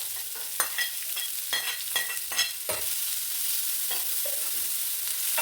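Chopped onions and chili sautéing in hot oil with a little ginger, a steady close sizzle broken by repeated scraping and clattering stirs of a spoon against the pan.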